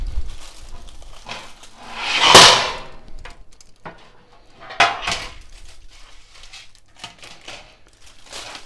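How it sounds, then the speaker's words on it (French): A roast beef set down on a metal cooling rack in a kitchen, giving a loud metallic clatter at one point, then a few sharper knocks and light handling sounds, with no talking. "Je vais simplement le poser sur une grille."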